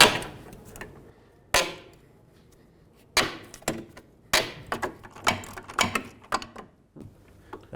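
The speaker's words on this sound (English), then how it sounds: "and then we'll drive the bolt out" A bolt is hammered out of a 2003–2007 Nissan Murano rear upper control arm, with sharp metallic strikes at irregular intervals, some in quick clusters, close up and loud against quiet pauses.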